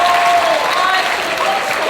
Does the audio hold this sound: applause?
yes